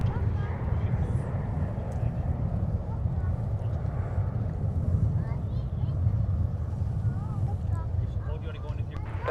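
A KLM heavy jet airliner rolls for takeoff on runway 30 left at Minneapolis–Saint Paul airport, giving a steady, broad engine roar heard from a distance with some wind noise throughout.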